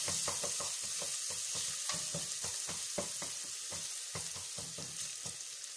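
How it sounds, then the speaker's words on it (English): Chopped onion fries in a pan for a minced beef stew, a steady sizzle broken by a quick, regular series of spoon strokes and clicks against the pan, close up with no voices. "Put my onion. And it's cooking very well."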